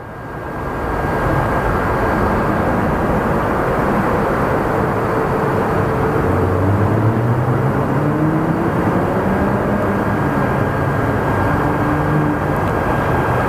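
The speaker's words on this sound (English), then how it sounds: "So it's a UPS Airline 767 coming from Louisville." A UPS Airlines Boeing 767 arriving from Louisville rumbles at Phoenix Sky Harbor airport with a loud, continuous broadband jet roar that builds in the first seconds and holds steady, with slowly shifting engine tones beneath.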